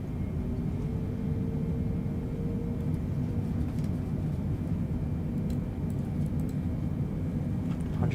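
Boeing 747 thrust reversers spooling down on a runway rollout in a flight simulator, a steady broad roar with low rumble that holds evenly throughout without breaks.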